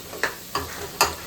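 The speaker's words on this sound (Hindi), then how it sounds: "तो अभी मैं मसाले को भून रही हूँ अच्छे से" Spice masala stir-fried in a pan gives a soft background sizzle, broken by three short scraping stirs at regular intervals.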